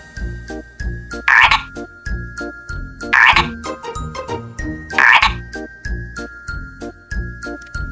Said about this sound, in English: What sound does a frog make?